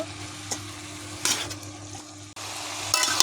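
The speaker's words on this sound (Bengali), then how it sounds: "এখন আমি ভালো করে নেড়ে দেবো" A small batch of sweet-sour mango with turmeric being stirred over the heat, with a soft sizzle and a couple of brief scraping strokes, close and fairly quiet.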